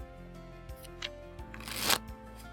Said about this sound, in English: we are going to shuffle the 6-deck shoe.